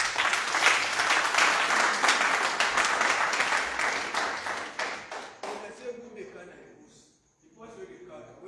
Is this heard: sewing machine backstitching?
no